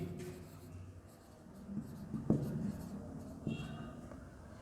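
Writing by hand in an English grammar lesson: faint, soft scratching strokes of pen or chalk, with a few sharper taps, close and quiet.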